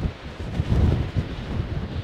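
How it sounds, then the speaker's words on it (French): Strong wind buffeting a microphone outdoors at the Chile–Argentina border, producing a continuous low, gusty rumble with uneven surges. "Désolée pour le vent, ça souffle énormément."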